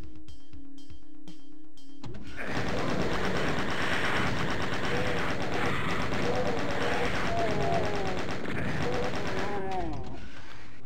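The player's weapons in Doom fire in rapid machine-gun-like bursts. The dense, loud, continuous barrage begins after a couple of seconds of sparse clicks, and monster cries and rising squeals cut through the roar.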